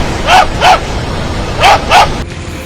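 A dog sheltering with its puppy on the roof of a car swamped by floodwater in an underpass barks four times in two quick pairs, loud and close over a steady rush of background noise.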